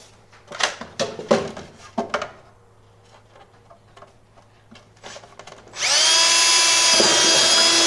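A power drill bores speaker holes in the front of a 1988 Ford Ranger, whining loud and steady near the end after scattered knocks and handling clatter.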